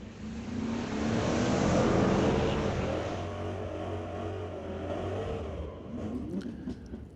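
A 1978 Malibu and a 2006 Chevy SS drag race at Mission Raceway Park's Friday night street legal drags, their engines roaring loudly as they launch, then fading into a long, receding drone down the track.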